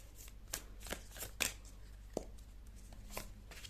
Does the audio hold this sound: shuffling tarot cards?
yes